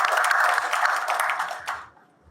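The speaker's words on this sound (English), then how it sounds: "One more time, actually, big round of applause" Audience applause for the panelists at a business masterclass: a dense wash of clapping from a crowd, fairly steady, then thinning out and fading to quiet near the end.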